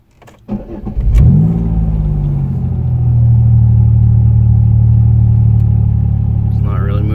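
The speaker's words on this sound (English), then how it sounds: "This is a cold start." A car fitted with homemade polyurethane engine mounts cranks and fires on a cold start, the starter's brief whir giving way to a loud, steady idle that settles slightly higher and holds.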